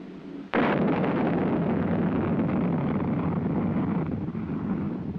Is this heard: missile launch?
yes